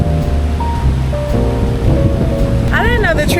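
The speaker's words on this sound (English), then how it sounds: "Look at how bad it's raining." Heavy rain pours down on a Florida beach during Hurricane Milton, a steady loud broadband roar, with a brief rising whistle-like sweep near the end.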